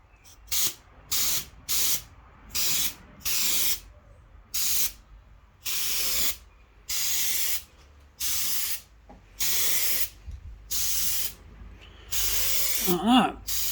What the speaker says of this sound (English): There's a little airbrush, and you just spray it on a bit at a time.